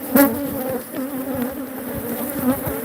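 A swarm of killer bees drones steadily inside a mining hoist, a dense, close, continuous buzz with individual bees flitting past.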